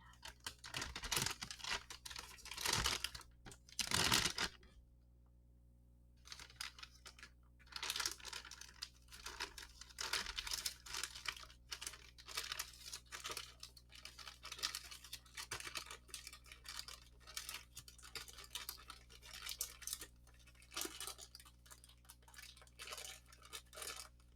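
Close, crisp crinkling and rustling of paper being folded up, in repeated short bursts with brief pauses, in a quiet indoor setting with no talking.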